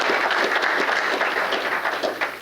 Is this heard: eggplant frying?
no